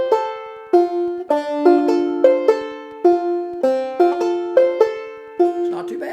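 Banjo picking a steady roll on open strings for Jaqueline's Dream, bright plucked notes ringing close and clear in an even repeating pattern, played alone without any talking.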